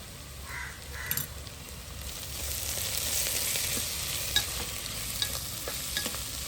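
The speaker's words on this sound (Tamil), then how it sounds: "அதையும் சேர்ந்து வெங்காயத்தோட வதங்கட்டும்." Ginger and garlic sauté with onions in a pan for a Jaffna-style chicken curry: a steady hiss of frying that swells midway, with occasional sharp clinks and scrapes of a spoon.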